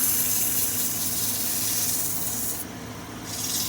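Steady abrasive rubbing of 100 grit sandpaper against a turned wooden snowman spinning on a lathe, a continuous close hiss with a brief dip in the upper range near the end.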